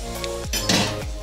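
A metal spoon scraping and clinking against a pan while masala and crushed chilli are stirred for a prawn shallot roast, a few sharp knocks and brief scrapes, close and alone.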